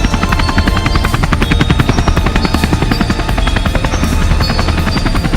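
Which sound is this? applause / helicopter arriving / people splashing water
helicopter arriving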